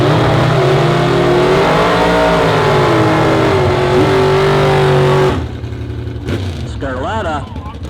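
A Chevrolet Nova with a 327 engine and single Quadrajet carburetor roars at a drag strip, loud sustained engine drone under an announcer's talk, then cutting off abruptly into quieter track noise with another engine revving.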